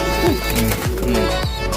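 Racing pigeons coo in a loft, a series of low, rolling coos with falling pitch repeating every half second or so, close and fairly loud under a faint background hum.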